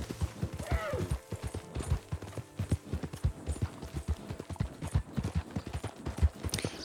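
Horse hooves clip-clop in a steady galloping rhythm while riding through the countryside in Red Dead Redemption 2, close and continuous, with a faint whinny-like sweep early on and no speech.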